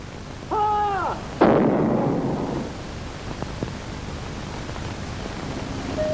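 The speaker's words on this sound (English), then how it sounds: "on certain ceremonial occasions you can still hear the guns resound" Ceremonial gun salute at Stirling Castle: after a shouted command, a single loud cannon blast booms close by and rolls away in a long fading rumble over outdoor wind noise.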